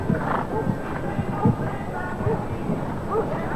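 Horse hooves thud during a show jumping round, irregular clip-clop strides heard at moderate distance beneath an excited commentator's voice and arena background noise.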